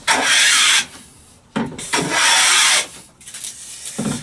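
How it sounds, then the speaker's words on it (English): A restored vintage Stanley No. 7 hand plane shaves thick, full-length shavings from pine in close, loud rasping strokes, three long passes separated by brief pauses. "That is taking beautiful, quite thick, full-length pine shavings."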